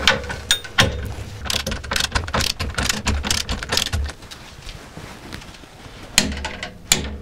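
A screw being tightened with a ratchet on the rear axle of a Renault Espace, giving rapid close metallic clicking in bursts with brief pauses and a few sharper clanks, no talking.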